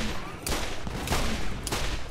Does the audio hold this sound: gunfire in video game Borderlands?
yes